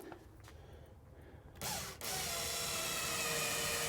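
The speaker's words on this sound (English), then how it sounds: "They'll drill a hole in the sheetrock as you go through, and they'll anchor." A power drill drives self-tapping anchors into sheetrock while a range hood is mounted under a cabinet: a short whir and ratcheting burst, a pause, then a sustained louder high-pitched drilling whine close by.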